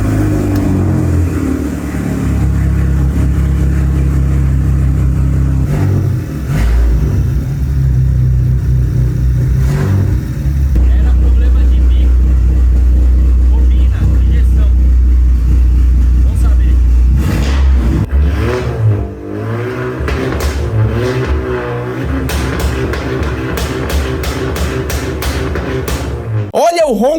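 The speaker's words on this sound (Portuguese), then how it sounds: "Olha o ronco desse TSI." A Volkswagen Jetta with a TSI turbo engine, bought damaged at auction and just brought back to life, revs loudly up close with a deep sustained drone that rises and falls through several throttle blips toward the end.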